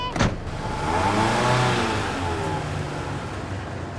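A car engine revving up as the vehicle pulls away after a door slam at the start, a steady mid-pitched drone that swells and then holds under faint background noise.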